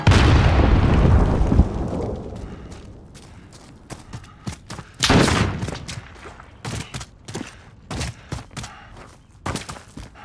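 A grenade blast and scattered gunfire in the battle royale game Call of Duty: Warzone (Modern Warfare), opening with a loud rumbling explosion that decays, then a second boom and a string of sharp shots and pops.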